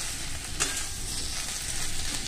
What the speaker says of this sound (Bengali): শুকনো করে ভাজা ভাজা করে নাড়াচাড়া করে নামিয়ে নেব